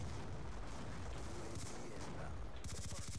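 Gunfire from a DSR sniper rifle in the video game Call of Duty Black Ops 2, heard as dense, loud, continuous noise with a run of rapid pulsing bursts toward the end.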